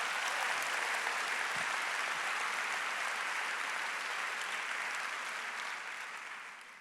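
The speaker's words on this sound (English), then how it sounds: "I just want to give a big round of applause, if you'll join me, to everyone who's been involved over the last few weeks." An audience claps together in a steady, dense round of applause. The sound is full and even, then fades gently toward the end, and no voices come through over it.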